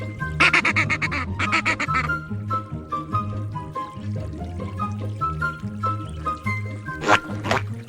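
A duck gives a run of loud, nasal honking calls in quick bursts near the start, then more scattered quacks and a final harsh burst near the end, all over steady background music.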